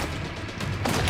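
A grenade explodes in the video game Resident Evil Requiem, heard as a loud, dense burst of blast noise that swells sharply near the end of the short moment.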